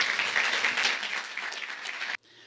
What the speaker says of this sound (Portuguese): Vamos receber o nosso palestrante com um carinhoso aplauso.